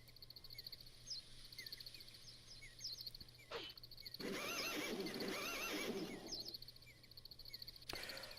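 Horse neighs and whinnies from The Legend of Dragoon video game, rising and falling calls that repeat over a steady electronic hum, with one long loud burst in the middle and a brief sharp cry near the end.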